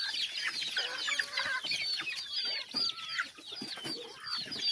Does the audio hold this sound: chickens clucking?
yes